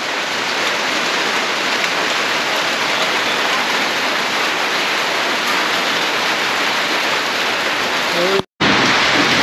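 Steady heavy rain pouring down as a constant dense hiss, close and loud, cut off by a brief gap near the end.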